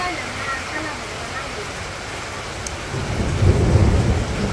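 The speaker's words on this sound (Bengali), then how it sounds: "দেখতে পাচ্ছেন কি অবস্থা বৃষ্টির।" Heavy rain pours steadily in a rural village during a storm, with low rumbling thunder swelling louder toward the end; a voice speaks faintly beneath the downpour.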